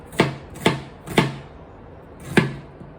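A knife chopping onion into tiny cubes on a cutting board gives four sharp, close thuds. The first three come in steady rhythm, and the last follows after a short pause.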